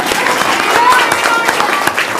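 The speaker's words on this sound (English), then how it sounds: "Clap, boys." At a village board meeting, the audience and members of a youth football team applaud in a quick, dense burst of clapping that fills the room, with voices mixed into the noise.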